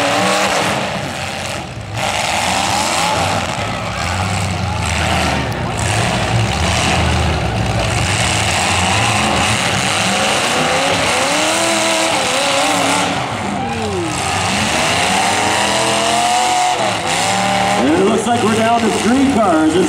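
Demolition derby cars at the Norfolk County Fair pro mod championship roar and rev loudly throughout, engines surging and straining with rough mechanical clatter, while an announcer talks over the din.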